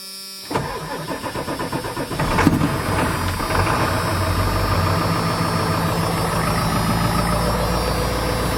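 Farm vehicle engine cranks and catches, then runs steadily with the throttle held to the floor, rough and loud, suffering from air intrusion.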